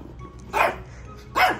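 A new puppy in a hotel room gives two short, sharp barks, spaced close together and alone, against a quiet room.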